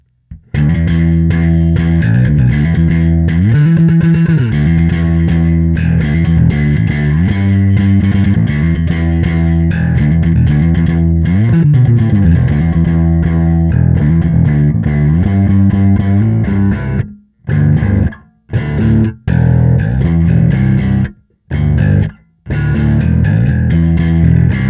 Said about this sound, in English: crank it up to get punchy metallic tones of 80s and 90s rock